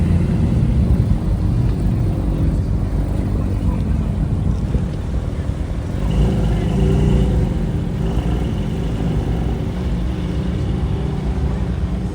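Steady traffic rumble as Porsches roll past nearby at a winter car meet in Toronto, engines swelling and fading in a continuous wash of road noise.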